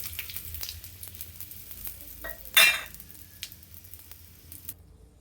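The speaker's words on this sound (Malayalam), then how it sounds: "വെളിച്ചെണ്ണയും നെയ്യുമാണ് കേട്ടോ ഒഴിച്ചിരിക്കുന്നത് ഇനി വറ്റൽ മുളക് കറിവേപ്പില" Dried red chillies and curry leaves sizzle in coconut oil and ghee, a low crackle under light utensil taps, with one sharp burst of spattering midway as they hit the hot fat.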